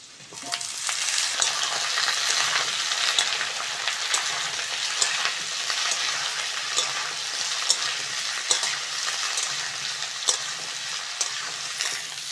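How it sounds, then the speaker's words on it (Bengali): Cauliflower and potatoes fry in a pan with a steady, bright sizzle that holds for the whole stretch, broken by small stirring crackles and taps, and no voices. "এবার ফুলকপিটা আলুর সঙ্গে ভালো করে ভেজে নেব"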